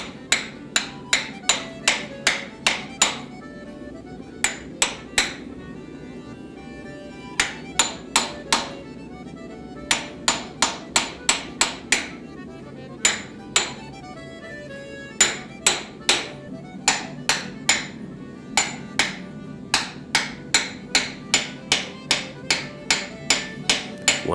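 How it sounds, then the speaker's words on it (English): A chisel hammered into folded axe steel, cutting a slot for the edge steel, rings out in bursts of sharp metallic strikes, several quick blows per group with short pauses between, close and loud with no talking. "To make room for inserting the edge steel, I use a chisel and slowly work my way down."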